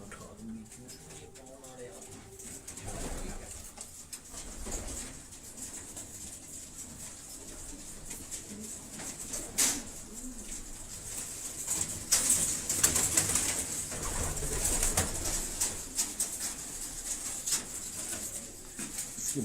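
Pigeons coo softly in the background under a steady wash of noise, with people talking nearby throughout.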